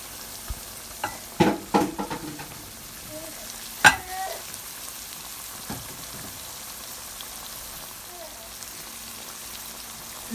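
Onions frying in oil for a sautéed gizzard dish, a soft steady sizzle under several sharp clattering stirs and utensil knocks near the start, then a quieter continuous hiss with occasional light taps.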